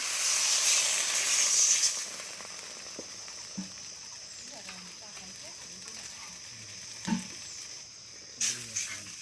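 Water poured into a hot pan of spices and turmeric, a loud hiss at first that drops to a soft simmering sizzle, with a few clinks of utensils and brief talk.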